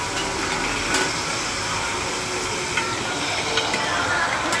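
Onions and green chilies sizzling and frying in hot oil in a home kitchen, a steady loud hiss running evenly throughout with faint clinks of stirring.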